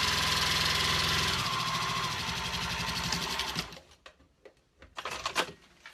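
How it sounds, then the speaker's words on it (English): A Juki 2000 QI sewing machine top stitches fabric with a loud, steady mechanical whir for about three and a half seconds, then stops, leaving faint handling noises. "So I'm gonna top stitch the whole thing using the same stitch length I've been using."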